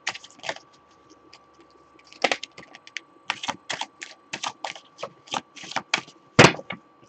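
Tarot cards being shuffled, a run of crisp riffling clicks and snaps in irregular bursts with short pauses between, close and fairly quiet, no talking.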